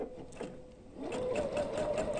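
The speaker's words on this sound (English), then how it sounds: "take 2 stitches forward, go 2 stitches back," A sewing machine stitching a self-binding fabric placemat, running in short bursts forward and back with a steady mechanical whir and rhythmic needle ticks, close and moderately quiet.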